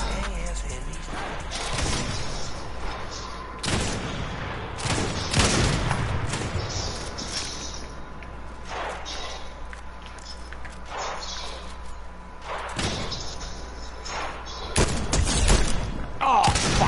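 Fortnite gunfire cracks out in scattered loud bursts and single shots amid game ambience and footsteps, with players talking over the action.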